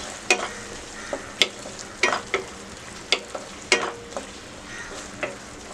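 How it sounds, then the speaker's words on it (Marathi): Diced onion cubes sautéing in a pan for bread chilli, with a soft steady sizzle broken by sharp clinks and scrapes of a spoon stirring at irregular intervals, no talking. "यात आता कांदा घालूया. क्यूब्स मध्ये कट केलेला आहे. 1 मिनिट परतून घेऊया यातच."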